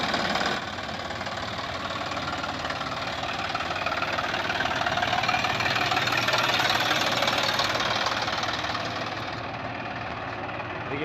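An old tractor engine idles steadily for several seconds, a close, even rumble with a knocking throb and a faint voice underneath.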